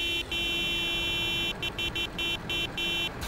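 A video game car horn sounds in a long sustained honk, followed by a rapid string of short choppy toots.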